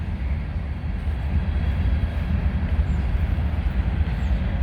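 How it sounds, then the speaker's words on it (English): A Norfolk Southern gondola freight train passing at a road crossing, a continuous heavy rumble of rolling cars with steady rail noise, close and loud throughout, no talk. "But the Norfolk Southern gondola train"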